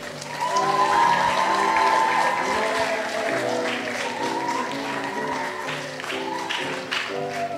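A church congregation at a Sunday honouree service applauds steadily and fairly loudly throughout, with organ or keyboard chords playing beneath the clapping.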